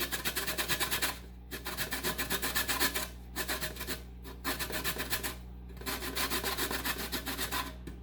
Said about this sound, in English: I'm going to finish grating that up in a few minutes.